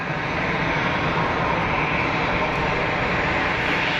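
A single-pilot certified aircraft at Geneva Airport produces a steady, loud, broadband engine roar that holds level throughout with no clear speech over it.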